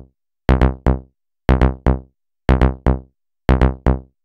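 A one-bar Retro Synth loop in Logic Pro Live Loops repeats four times: each bar a punchy low hit followed by two quick plucked synth stabs, sharp attacks decaying fast into silence, loud and alone.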